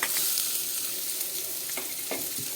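Chopped onion, garlic and dry chilli with a pinch of asafoetida sizzle steadily in hot tempering oil for a lentil dal, with a few sharp spatula scrapes near the end.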